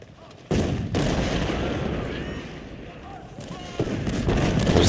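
Artillery fire from the video game Ultimate General: Civil War, a sudden loud boom that rolls into a long rumbling wash of distant cannon and musketry, with another burst near the end under a voice.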